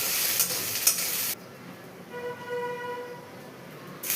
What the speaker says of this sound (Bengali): কড়াইয়ের মধ্যে দুটো ডিম দিয়ে দিলাম, ঝুড়ি করে ভেজে নিলাম।